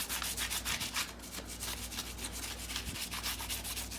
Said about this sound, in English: I'm going to take my little cheapo Walmart stick bristle brush and I'm going to get the bottom of the tire there